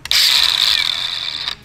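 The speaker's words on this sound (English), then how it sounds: "with this handy dandy 20 volt grinder" A 20-volt cordless angle grinder grinds and cleans a metal surface before welding a thick grade 8 washer during a Scout II suspension install, a loud steady high whine lasting over a second with a quick start and stop.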